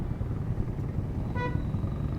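Steady road traffic rumble heard from a Honda Wave RSX motorcycle, with a brief car horn toot rising near the middle above the continuous low drone.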